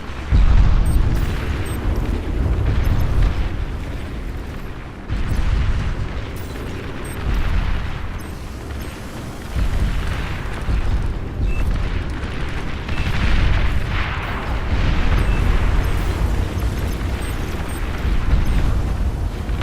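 Big explosions roll on and off as an enemy commander blows up in Beyond All Reason, a sixteen-player match, with deep booming blasts and rumbling debris that keep swelling and fading, dense and loud throughout.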